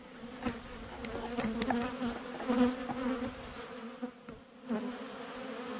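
Honeybees hum and drone close by at an open hive during a frame inspection, a steady buzzing swarm with a few sharp clicks and knocks of handled equipment, no voices.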